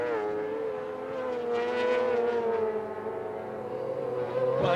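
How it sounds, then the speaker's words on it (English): 600cc Honda sidecar racing engines howl at high revs, a sustained shrill wail that shifts pitch as the outfits carry two riders through the bends, loud and close with no talking. "it's a tribute to these 600cc engines, the way they howl around with two men and a load of bodywork on board"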